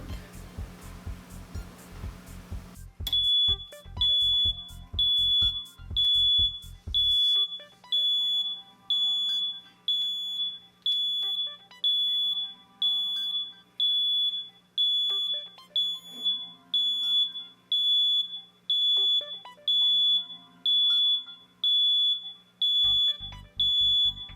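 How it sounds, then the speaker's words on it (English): A timer used while heat-fusing geothermal pipe on a hot tool beeps loudly and steadily, a regular series of electronic beeps repeating about once a second, close and alone. "This is our timer."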